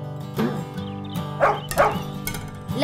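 Short cartoonish dog barks and yips sound within a Spanish-language children's nursery song, several quick woofs set over the plinking music accompaniment.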